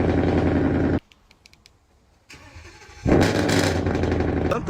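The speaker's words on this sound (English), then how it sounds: "You can start the engine, I want to listen." Supercar engine starting outdoors: a loud running burst, a sudden cut to near silence for about two seconds, a faint restart crank, then a strong roaring catch and steady idle.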